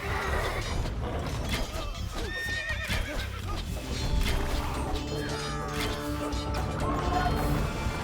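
Scout cavalry horses in Age of Empires II whinny and clop amid a dense, continuous game soundscape, with a crash or two and overlapping battle noise throughout.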